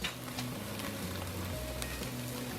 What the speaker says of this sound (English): Giving them a good sear, both sides.